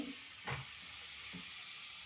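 Hot oil sizzles steadily with a constant hiss, broken by a couple of soft stirring scrapes in the pan.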